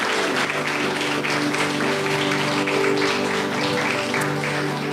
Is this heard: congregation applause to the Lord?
yes